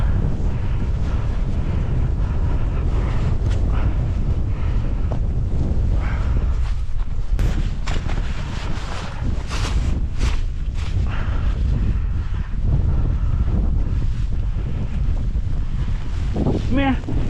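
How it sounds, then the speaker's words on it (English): Strong wind buffeting a tent at a mountain wild camp ahead of a snow storm, loud continuous roaring gusts and flapping fabric hitting the microphone for the whole stretch, with a brief voice near the end. "It's really got windy though now,"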